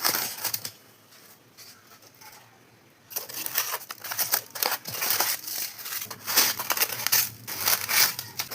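A package holding a clay pot, packed with thermocol, being torn open: a few quiet seconds, then loud bursts of crunching, crinkling and scraping in uneven rhythm, close by.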